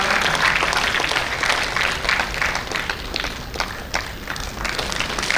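An audience in a hall at a corporate anniversary awards ceremony breaks into continuous applause, a steady dense wash of many clapping hands at moderate distance, with no speech.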